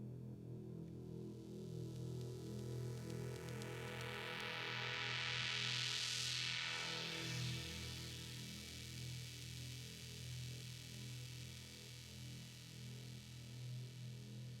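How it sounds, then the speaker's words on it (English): Synthesizer pads made with Serum and Engine hold a sustained, droning chord with a soft buzzing texture, while a filter sweep rises and falls through the middle, quiet throughout. "If we get the pads up, they sound like this."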